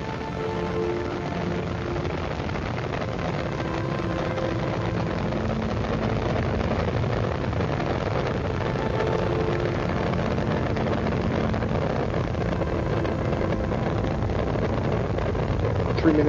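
Space Shuttle Discovery's engines roar during launch as it climbs toward orbit, a continuous broad rumbling thunder that stays loud and steady with little change, muffled and distant in character.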